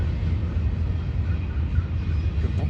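A train on the tracks starts moving again after stopping to let another pass, giving a steady low rumbling roar with rolling rail noise, fairly loud and continuous, with no talking.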